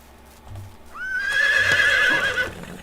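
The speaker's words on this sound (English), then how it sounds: "Donkey was not nearly as loud as the horse." A horse in the game Medieval Dynasty gives a loud, close, drawn-out whinny with a rising then wavering tone, over faint hoof clip-clops.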